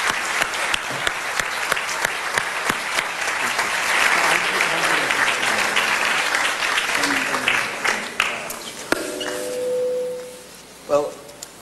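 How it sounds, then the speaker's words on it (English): Sustained audience applause fills a hall greeting a guest speaker at a formal gathering, dense and steady for most of the stretch before thinning out, with a few voices emerging near the end. "Please give him a round of applause."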